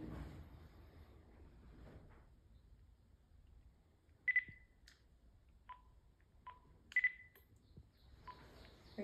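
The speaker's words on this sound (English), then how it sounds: "those beeps are me deleting things off of here" A handheld electronic recording device beeps as recordings are deleted, giving a few short, sharp electronic tones and clicks spread over the clip against a faint, quiet background, with no one talking.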